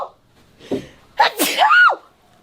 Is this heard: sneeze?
yes